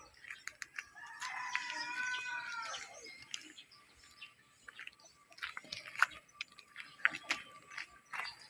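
Chickens in a pen cluck and chirp in a busy jumble, louder at first, then scattered sharp calls from several birds at moderate distance.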